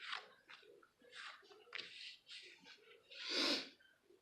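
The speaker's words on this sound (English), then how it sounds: "Sorry for sniffling." A person sniffles close to the microphone in several short nasal bursts, with one louder, harsher sniff near the end, heard alone without speech.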